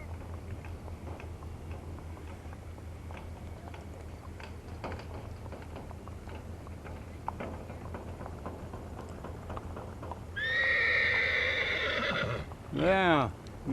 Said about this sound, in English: Here comes some horses.